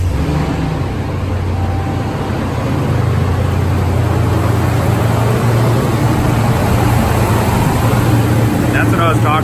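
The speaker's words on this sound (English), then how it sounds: "if you want to hear the roar of a stock engine now that she's back stock" A stock 5.7L HEMI V8 in a RAM 1500 pickup runs at a steady, loud low rumble with a mechanical fan whirring, the engine continuous and close throughout.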